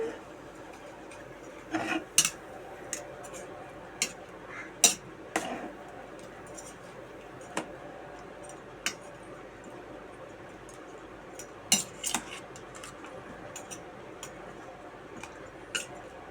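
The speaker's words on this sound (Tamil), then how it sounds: "தக்காளி நல்லா எப்போ கிண்டி விட்டுக்கிறோம்" A spoon stirs chopped tomatoes in a cooking pan, giving soft scattered scrapes and light metallic ticks at irregular intervals over a quiet background.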